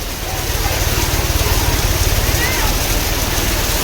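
Steady rain pouring down around a shed near a bank at Trimbakeshwar, a dense, continuous hiss that fills the whole clip at close range, with no talk over it.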